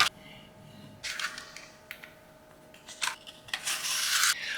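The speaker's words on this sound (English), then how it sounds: "So I'm going to glue this down now." A paper print is pressed and rubbed down with glue onto a junk mail envelope journal cover, giving several close, dry rubbing and smoothing strokes of rising length, the last one longest, with no talking.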